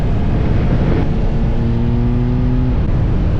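Motorcycle engine running steadily at close range on a mountain road ride in Alabama, a loud sustained drone with a rising tone in the middle as it revs.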